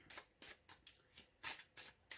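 A deck of tarot cards is shuffled by hand, a quick series of about eight soft riffling bursts in an even rhythm, close and quiet, with no talking.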